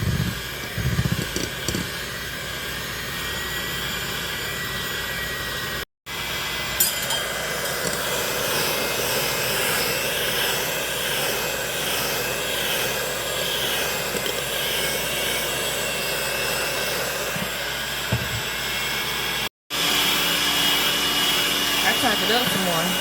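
An electric mixer beats strawberry shortcake batter with a steady, loud, continuous whirring drone, broken by two brief dropouts and with faint voices underneath.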